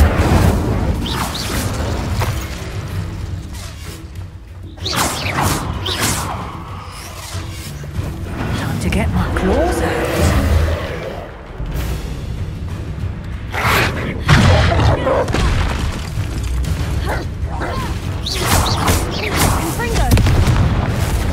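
Fire spell blasts in the Hogwarts Legacy game, a run of heavy booms and crashing impacts with roaring bursts over about twenty seconds, loud and dense, with game voices talking in between.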